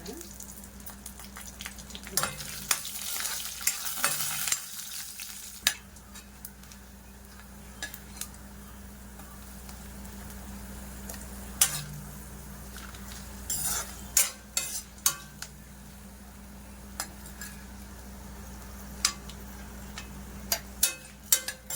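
Coconut, garlic and cumin fry in a pan with a low continuous sizzle under a steady hum, punctuated by scattered scrapes and taps of a spoon stirring, close and fairly quiet throughout.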